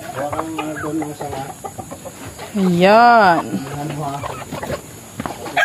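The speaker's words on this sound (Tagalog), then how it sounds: "Ating mga chicken. Kunti na lang ating mga chicken guys." Chickens cluck and a rooster-like call rises in the middle, among farm fowl at a small minihouse, with someone talking over the birds throughout.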